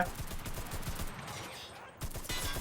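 Rapid machine-gun bursts in the World War II shooter Enlisted during an American assault, a dense rattling stream of shots that drops out briefly and then resumes, loud and close.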